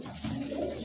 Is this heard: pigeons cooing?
yes